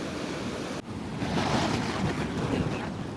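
Flood water from a full dam's released gates rushes over a road linking two villages, a loud, steady roar of churning water that swells slightly after a brief dip near the start.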